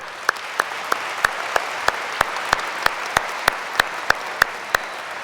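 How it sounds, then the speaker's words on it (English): Graduation crowd at Farmington High School applauds in a continuous wash of clapping, punctuated by regular sharp, loud claps from one nearby person roughly every third of a second. "Please join me in a round of applause."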